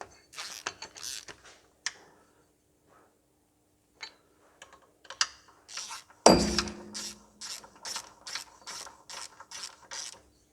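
Bolts on a John Deere 1640 hi/lo clutch pack tightened with a ratchet: bursts of close, fast ratchet clicks with pauses, then a loud metallic clunk followed by a rapid run of clicking.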